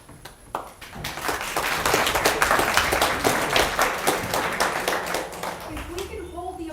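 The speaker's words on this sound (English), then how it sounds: "If we can hold the applause until after everyone completes, that would be fabulous." Audience applause at a small-town political forum, a crowd clapping in a dense, sustained burst that swells quickly, holds steady and then thins out near the end, with a voice briefly heard as it fades.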